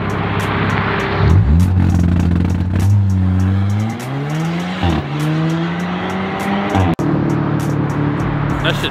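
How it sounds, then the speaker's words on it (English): An all-wheel drive car at a rally event launches hard and accelerates: loud, close engine revving that climbs through the gears, a sharp cutoff near the end, and tire noise, with people talking nearby. "that launch is insane with that all-wheel drive"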